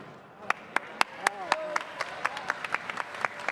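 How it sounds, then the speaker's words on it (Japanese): Audience applause at the EVO 2022 main stage fighting game event, a crowd clapping in a brisk irregular rhythm with sharp individual claps standing out, while a presenter talks over it. "会場からも拍手が湧き上がっております。"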